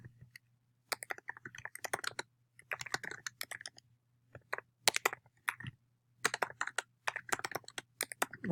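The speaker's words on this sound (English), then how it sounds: "let me get this typed out" Rapid bursts of typing on a computer keyboard, close and fairly loud, with clustered key clicks separated by short pauses over a faint steady low hum.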